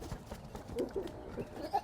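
A goat gives a few short, faint bleats close by amid soft barnyard rustling and shuffling, brief and intermittent.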